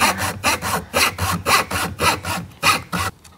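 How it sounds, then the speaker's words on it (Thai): A hand fretsaw cuts an owl shape out of a wooden board with rhythmic rasping strokes, about a dozen evenly spaced back-and-forth pulls, close and clear, stopping at the end. "อันนี้ก็เริ่มจากตรงนี้แล้วก็เลื่อยลงไปอย่างนี้ค่ะ"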